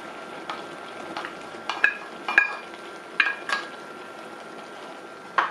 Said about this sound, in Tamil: பட்டாணியை போட்டு நல்லா மிக்ஸ் பண்ணி விடுங்க